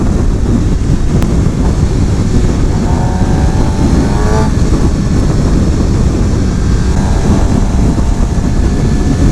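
A 2016 Suzuki GSX-R750 sport bike is ridden through traffic, its engine droning steadily under loud wind rush, with brief rising notes as it accelerates through the gears.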